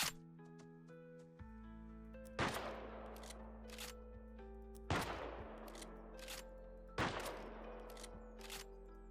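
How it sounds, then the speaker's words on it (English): Sniper rifle shots ring out in the video game Shatterland, four sharp cracks spaced about two and a half seconds apart, each with a ringing tail over a steady low hum and faint musical tones, with no voices. "Let's try out the sniper rifle."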